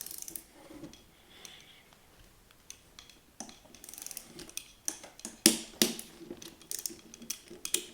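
Torque wrench clicking as a GROT rifle barrel is tightened into its seat, a few sharp mechanical clicks and ratcheting taps, close and fairly loud, with quieter handling noise between them.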